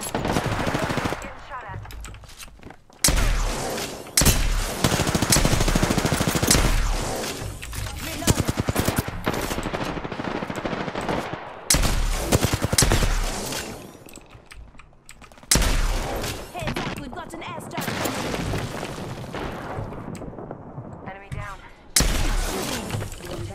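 Long loud stretches of rapid automatic gunfire in Apex Legends, with sharp bursts and breaking, shattering impacts, under occasional talking.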